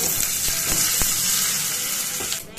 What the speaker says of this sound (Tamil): கடாயில் ஹீட் பண்ணிவிட்டு கொஞ்சம் கடுகு, உளுத்தம் பருப்பு அண்ட் பெருங்காயம் அண்ட் கருவேப்பிலை